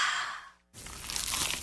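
Bite into a crunchy, cheesy pizza slice: a short breathy sound, a brief silent gap, then a crisp, crackling crunch up close that keeps going to the end.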